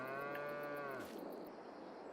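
A single long cow moo from the cattle herd on a farming video game ranch, close and clear, sliding down at the end and trailing into quiet background hum.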